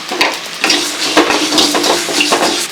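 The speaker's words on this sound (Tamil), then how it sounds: "இப்போ சீரகம் சோம்பு எல்லாம் பார்த்தீங்கன்னா நல்லா பொரிஞ்சு வர வரைக்கும் வறுத்து எடுத்துக்கலாங்க" Coriander seeds, cumin, fennel and dried chillies roast in a hot pan for a home-style okra curry masala, giving a soft continuous crackle and sizzle with scattered light scraping and stirring clicks, close and steady, no voices.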